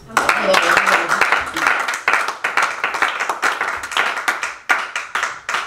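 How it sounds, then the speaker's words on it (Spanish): A church congregation claps during a sermon: loud, sharp, rhythmic handclaps in quick bursts that thin out and soften toward the end, with voices mixed in. "¿Cuántos le dan un aplauso a Dios?"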